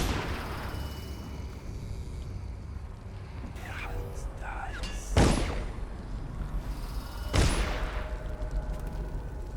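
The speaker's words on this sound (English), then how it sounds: "Why are there gunshots?" Gunshots ring out in the Dishonored video game, two sharp, loud cracks a couple of seconds apart over a rumbling ambient background with faint scattered game sounds.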